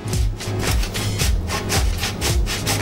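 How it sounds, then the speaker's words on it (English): A hard block of parmesan or grana padano cheese scraped against a grater in rapid rhythmic rasping strokes, about ten close, even passes with no talk. "just grate inside some parmesan cheese or grana padano cheese"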